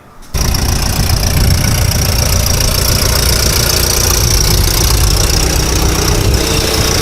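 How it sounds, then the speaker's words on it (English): Chevrolet Blazer engine roaring loud and steady during a burnout, a dense sustained rumble that starts abruptly and holds at full volume throughout. "I'll do a burnout for you in the Blazer real quick"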